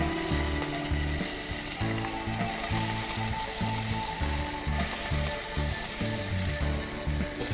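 Onion with ginger, chili and garlic paste frying in hot oil for a kathi roll filling, a steady dense sizzle under a loud rhythmic mechanical rattle throughout, with no talk.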